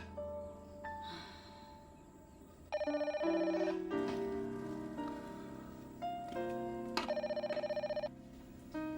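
A telephone rings indoors in bursts of rapid electronic trilling, two clear rings a few seconds apart, with faint room noise between them and no talking.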